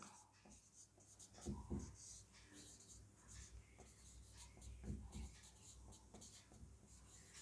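Chalk scratches and taps across a classroom blackboard during a physics lesson, close and steady strokes with a few firmer bursts, heard alone without talk.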